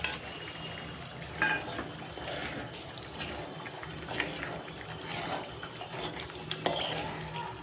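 A Punjabi vegetable dish is stirred in a pan on the stove, with a soft steady sizzle under scattered scrapes and clinks of a spoon against the pan, quiet and close.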